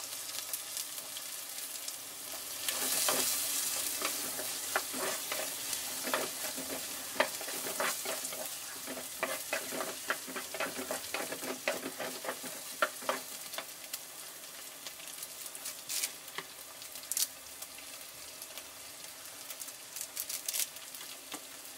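Liver roast with sliced green chillies frying in a pan, with a steady close sizzle and crackle broken by repeated scraping stirs of a spoon, with no voices.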